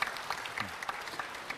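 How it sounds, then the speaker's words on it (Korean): Brief, moderately distant applause from an audience at a Korean public talk event in Sokcho, a dense patter of many hands clapping steadily with no voices over it. "우리 어머님 힘내시라고 박수 좀 보내주십시오."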